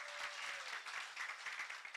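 Audience applause at a live event in Kenya, a steady wash of many hands clapping, moderately distant and sustained throughout.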